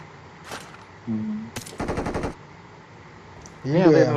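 Gunfire in the mobile battle royale game BGMI: a single sharp shot and then a short rapid burst of automatic fire, followed by a brief voice near the end.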